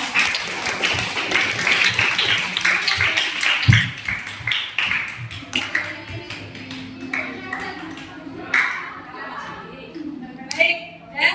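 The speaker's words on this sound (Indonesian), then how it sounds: "Kita berikan tepuk tangan untuk kelompoknya masing-masing." Students in a classroom applaud their group presentation, a burst of many hands clapping that thins into scattered claps and taps, mixed with children's voices and chatter.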